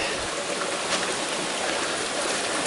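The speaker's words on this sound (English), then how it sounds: "We think we might be at the creek." A rain-swollen creek on Mount Rainier's Wonderland Trail, a steady broadband rush of flowing water close by with no break and no voices.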